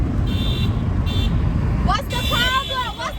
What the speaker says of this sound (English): Why do people keep honking?